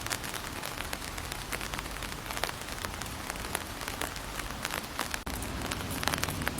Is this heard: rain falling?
yes